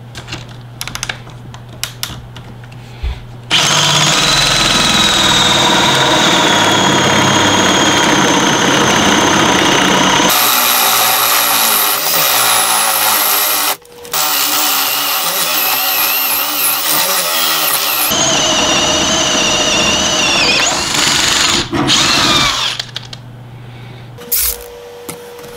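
A power drill bores a curved hole into a wooden board, whining loudly in long sustained bursts with brief stops between them, while the motor pitch shifts as the bit works through the wood.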